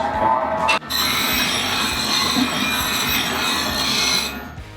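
Bench grinder sharpening a woodturning gouge: a steady, loud abrasive whine and rasp runs almost the whole clip, with a brief dip just before the first second, and no talking.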